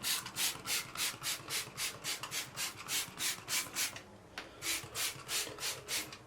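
Rhythmic back-and-forth brush scrubbing of shower grout with foaming bleach, steady strokes repeating about twice a second, close and fairly loud with no talking.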